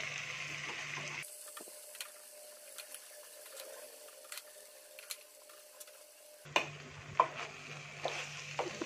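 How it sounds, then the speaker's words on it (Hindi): Cooked rice being stirred into masala in a pan over low heat, a soft, steady scraping and gentle sizzle with faint ticking clicks of the spoon, alone without voices. "अब इस मसाले में चावल को मिला लेंगे, पके हुए चावल को।"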